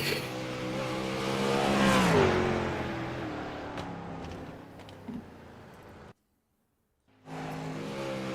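A race car runs a lap at Volusia Speedway, engine roaring steadily and rising in pitch as it passes close, then fading, with a short silent gap before the engine noise returns.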